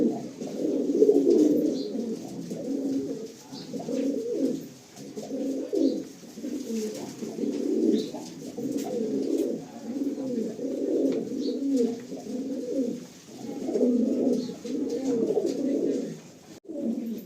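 A flock of pigeons in a loft near an airport coos continuously in rhythmic, rolling bursts that swell and fade, close and moderately loud with no talking, as a young, unflown pigeon is let out.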